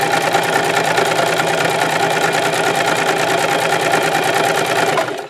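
A sewing machine runs a zigzag stitch along a fabric edge while sewing a scrub cap, giving a fast, steady mechanical whir with rapid rhythmic needle clatter close up, running continuously before stopping abruptly at the end.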